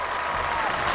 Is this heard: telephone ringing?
no